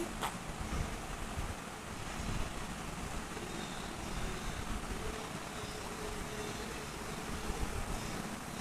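Two tablespoons of ginger garlic paste sizzle in hot oil for restaurant-style egg fried rice, a steady, dense hiss that holds evenly for the whole stretch with no one talking.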